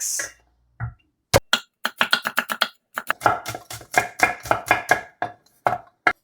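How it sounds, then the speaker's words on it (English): A knife finely mincing garlic cloves on a cutting board, with a single sharp chop, then a run of quick, crisp rhythmic chops close by, each one distinct against silence. "We will start by finely mincing 4 cloves of garlic."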